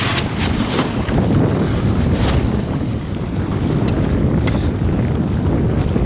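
A sailboat races through rough waves in strong wind, with steady loud wind roar buffeting the microphone and water rushing and slapping against the hull throughout, no voices.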